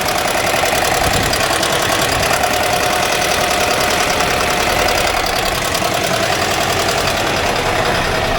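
An air-cooled engine in a 1982 VW Vanagon Westfalia idles steadily throughout, a loud continuous mechanical rumble with a fine ticking texture and no voices.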